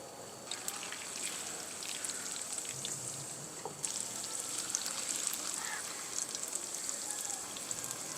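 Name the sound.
chapli kababs frying in oil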